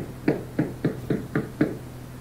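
Six evenly spaced knocks on a door outside, firm and fairly close, with no voices, as in a historical Acehnese drama.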